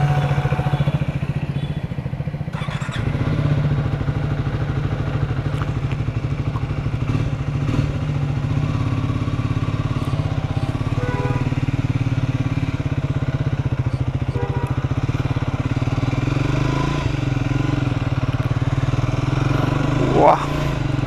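A Triumph Speed 400 motorcycle rides along after its second service, its engine a steady mid-pitched drone with clattering mechanical noise throughout, and a voice speaks over the ride.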